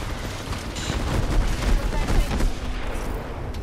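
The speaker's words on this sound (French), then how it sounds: "On me tire dessus." Dense, continuous gunfire and explosions in a ranked battle-royale shooter, close and loud, with bursts and booms layered over each other for the whole stretch.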